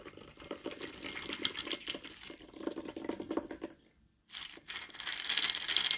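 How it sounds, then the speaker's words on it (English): A French 75 cocktail pours out of a glass in a steady, close liquid stream with a splashy, hissing texture, pausing briefly near the end before flowing again; no talking. "We're pouring it out of our glass."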